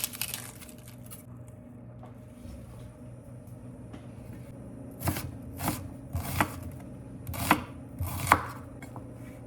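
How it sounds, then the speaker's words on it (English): Knife dicing vegetables on a board for cauliflower soup, a series of sharp chopping knocks that start sparse and become a quicker run of close, distinct cuts over a quiet kitchen background. "I don't have to finally dice these because it's gonna get all blend up anyway."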